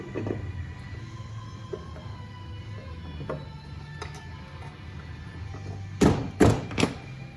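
Engine cover being fitted back onto a Kawasaki Z125 engine, with quiet fiddling and small taps followed by three loud, close thunks as the cover is pressed into place.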